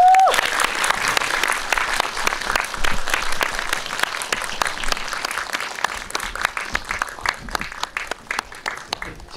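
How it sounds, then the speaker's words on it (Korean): An audience at an indie film talk event applauds as the actors enter, with loud, sustained clapping that starts full and gradually thins into scattered individual claps. "우레와 같은 박수 부탁드리겠습니다."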